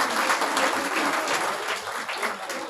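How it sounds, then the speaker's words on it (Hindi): Loud, dense applause from a crowd at a women's empowerment festival, honouring women on stage, continuous clapping throughout. "एक बार महिलाओं के सम्मान में जोरदार तालियों से उनका स्वागत करें"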